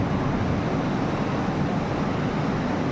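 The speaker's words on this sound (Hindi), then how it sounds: "समुद्र की लहरें बार बार आ रही है, तट से टकरा रही है और जा रही है।" Arabian Sea waves roll in and crash against the shore in a continuous, loud roar of surf mixed with wind rush, with no voices.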